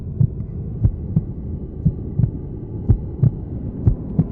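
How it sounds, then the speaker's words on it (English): An old man's heart beats as a low, muffled thump that repeats at a steady, even pace over a dark, throbbing hum, with nothing else heard. "It was the beating of the old man's heart."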